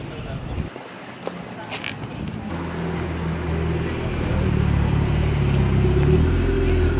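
A Ferrari 488 GTB supercar passes in a busy street, its engine rumble swelling and holding steady over several seconds amid traffic noise, with people talking nearby.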